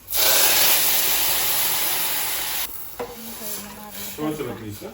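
Cumin, mustard seeds, garlic and curry leaves dropped into hot oil burst into a loud, dense sizzle that holds for a few seconds, then drops to softer crackling with clinks of a pan and a voice talking.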